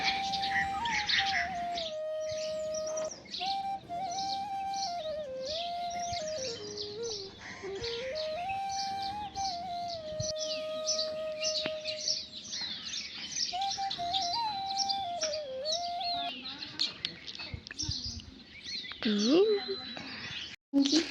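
Birds chirp and tweet busily throughout, with a steady warbling melody running underneath the calls.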